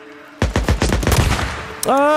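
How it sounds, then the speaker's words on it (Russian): Gunfire in the video game Days Gone comes as a rapid automatic burst of loud shots that fade into echoing decay, followed by a sharp tonal sound at the end. "Я слышу выстрелы."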